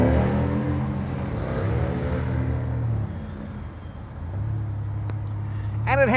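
GMC Syclone sport pickup truck engine runs and revs: a low, steady harmonic drone that dips briefly and then rises again, close and fairly loud throughout.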